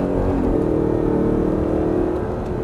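A car engine revs hard under acceleration on a driving track, a loud, steady droning tone that holds close and unbroken throughout.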